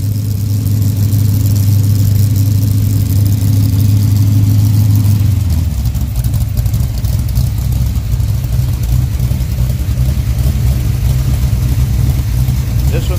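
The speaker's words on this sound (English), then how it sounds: "This engine idles a little bit lower too." A 406 cubic inch pump-gas street V8 with hydraulic lifters runs close up, a steady loud rumble that settles to a lower, lumpy idle partway through.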